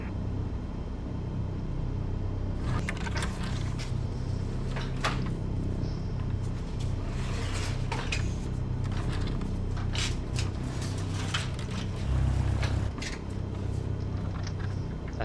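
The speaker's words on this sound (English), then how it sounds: "I think you can hear them removing the cargo." Cargo is unloaded in Microsoft Flight Simulator 2020, with a steady low mechanical rumble overlaid by a string of clanks, thuds and scraping knocks that recur irregularly through the scene.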